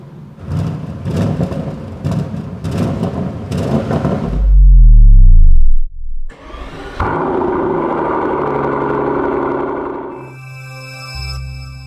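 A 2025 Audi RS7 Performance V8 revs hard in several loud bursts that swell and fall away, then a short quiet gap before a steady, sustained high-rev drone that cuts off near the end.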